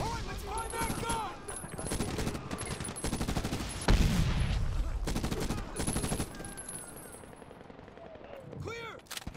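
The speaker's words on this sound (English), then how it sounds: "Heavy MG fire from the hill." Heavy machine gun fire pours down from a hill in Medal of Honor, dense rapid bursts and scattered shots crackling through a busy battlefield mix, with a louder nearby blast partway through and voices calling out over the din.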